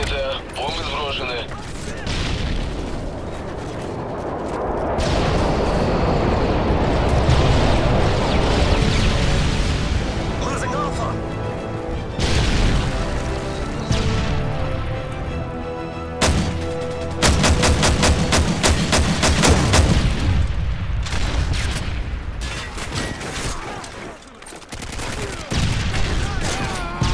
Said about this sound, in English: Бомбы сброшены.